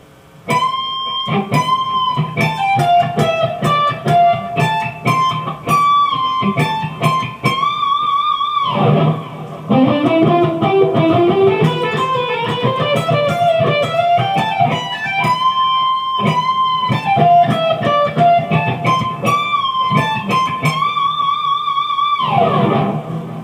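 Electric guitar plays a fast lead lick from a song's solo, with bends, slides and quick repeated notes, loud and clear, played several times without any talking.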